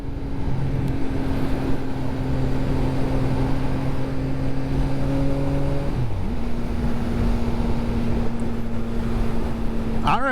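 CF Moto 675SS sport bike engine under way, a steady droning tone that drops sharply and recovers as a quick-shifter gear change goes through, with heavy wind rush throughout and a brief voice near the end.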